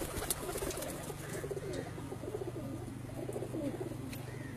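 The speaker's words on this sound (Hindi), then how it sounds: "एक मेरे जो है ना बड़े फेवरेट जी और मशहूर कबूतर है" Pigeons on a rooftop loft in Punjab coo softly and repeatedly, a low murmuring chorus at a moderate distance under constant background noise, with no talking.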